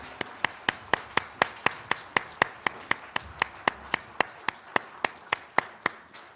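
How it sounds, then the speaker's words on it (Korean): A church congregation clapping in unison during a Sunday worship service, a steady, evenly spaced rhythm of sharp claps lasting several seconds with no talking over it. "함께 영광의 박수 올려드리겠습니다."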